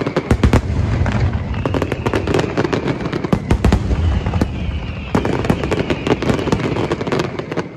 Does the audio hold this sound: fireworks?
yes